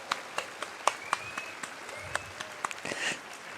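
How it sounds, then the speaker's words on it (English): Scattered applause for the panelists on stage at TennoCon 2024, the Warframe convention, with sparse individual claps ringing out in a large reverberant hall and a faint whistle near the end. "Can we hear another round of applause for our incredible panelists on stage here?"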